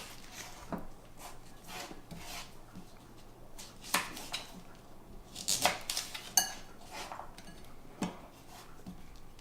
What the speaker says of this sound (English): Next, we're going to want to trim the Brussels sprouts of the hard bottom here and then just slice them in two.